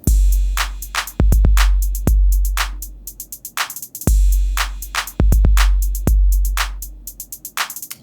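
A punchy drum pattern with deep kicks and crisp hits, a crash cymbal washing over the downbeats, repeating steadily and loud.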